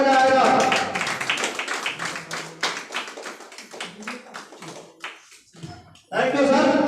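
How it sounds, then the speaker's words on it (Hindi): Hands clapping at a meeting where a group honours guests, dense claps mixed with talk over the crowd, thinning out briefly near the end before a loud burst resumes. "इसलिए बजाते रहिए क्योंकि तालियां बजेंगे तभी मजा आएगा।"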